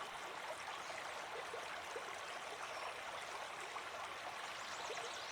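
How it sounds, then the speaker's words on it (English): Steady river water flowing and rushing in a broad continuous wash, even and moderately distant, with no voices. "Follow the sound until you reach a river."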